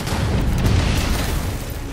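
Gunfire and explosions in the video game Halo 5 Guardians, a dense, loud rumbling barrage of booms and bursts that holds steady throughout, with no talking.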